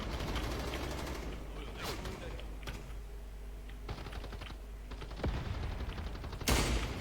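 Rapid gunfire bursts from the online shooter game Truy Kich crackle in dense, repeated volleys mixed with clicky keyboard-like clatter, fairly steady throughout with a louder burst near the end.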